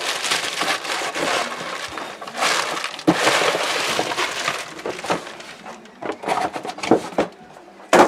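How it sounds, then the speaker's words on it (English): Cardboard and packaging crinkle and rustle up close as a new fuel pump for a Land Rover Discovery TD5 is pulled from its box, with scattered crunches, taps and handling noises. "get the pump out of the box, the new pump."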